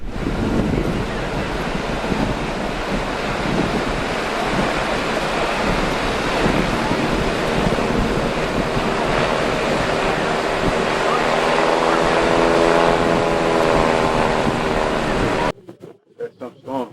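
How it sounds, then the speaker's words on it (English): Rough ocean waves roll onto a beach during a windy Labor Day, a constant loud roar of surf mixed with wind buffeting the microphone, cutting off abruptly near the end. "there's a few people here on the beach, as you can see, and the waves are a little rough."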